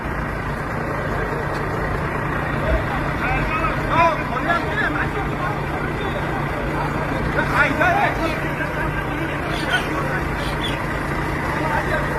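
Traffic jam with idling cars and trucks, a steady low engine drone with a constant hum and scattered distant activity, while someone talks close by throughout.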